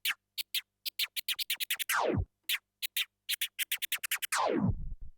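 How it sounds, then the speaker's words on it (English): DJ chirp scratches on a turntable with crossfader, a rapid series of short clipped bursts in bursts of rhythm, each run ending in a long descending sweep, loud and alone with no talking. "the reason I love the chirp scratch is I just think it sounds really good"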